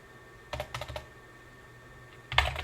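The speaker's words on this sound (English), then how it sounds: "so I'm going to type in hostname 2511." A few quick keystrokes on a computer keyboard typing a router hostname command, one short burst of clicks, a pause, then another brief cluster, close and fairly quiet.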